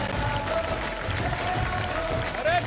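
A studio audience applauds steadily at a cooking competition show's finale, a continuous wash of clapping at moderate volume with a voice speaking over it.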